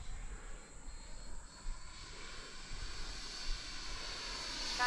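An Intruder model airplane at about half throttle flies past as a steady, airy motor drone that swells gently toward the end, set against outdoor background noise. No one speaks.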